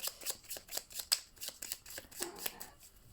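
A discard pile of playing cards from a Marvel Champions game being shuffled by hand, a quiet rhythmic series of soft riffling flicks close up, with no talk.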